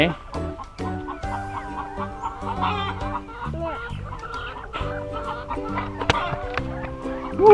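Chickens cluck and squawk nearby, steady and overlapping, with occasional louder calls from the flock.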